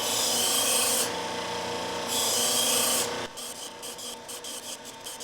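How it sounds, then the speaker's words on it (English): Fillet knife drawn through a spinning belt sharpener, a loud steady grinding rasp in two long pulls, then the belt whirring on with lighter rhythmic ticks. "I'm just going to pull through right here as the belt is spinning"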